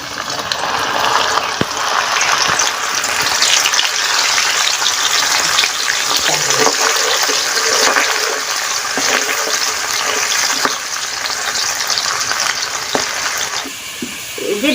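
Lentils for dal chanachur deep-frying in a wok of hot oil, a steady loud crackling sizzle that holds for the whole stretch with little change.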